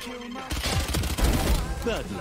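Rapid gunfire in the video game Valorant as a player empties a magazine: a dense, fast burst of shots that starts after a brief pause and keeps rattling to the end, with a voice faintly present.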